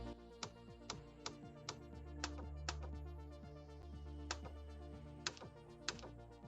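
Soft, distinct clicks from TrinketOS on-screen keyboard keys, each key with its own tone, tapped in an irregular rhythm of about ten presses over a faint steady hum.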